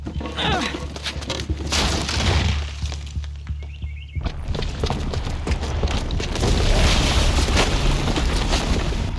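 A booby-trapped bomb detonating in the video game Horizon Zero Dawn, a loud blast followed by sustained crashing, shattering debris and rumbling that build again toward the end.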